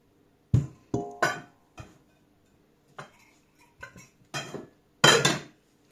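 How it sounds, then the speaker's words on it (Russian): Dishes being washed by hand in a home kitchen during baking, with scattered clinks and clatters of crockery and cutlery, close and fairly quiet, arriving in irregular bursts separated by silence. "А я пока помою посуду."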